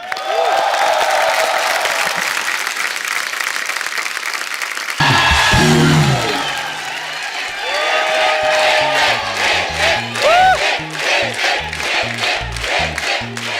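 Studio audience on The Kapil Sharma Show breaks into loud, sustained applause and cheering with whoops as Hrithik Roshan is welcomed, a dense crowd roar that swells midway and continues under music.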